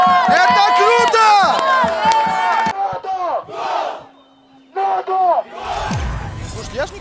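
Football supporters of Regar-TadAZ at the Tajikistan Cup final against Khujand in Istaravshan, a loud crowd chant with shouted rhythmic calls alternating with a nearby voice, then a burst of crowd roar.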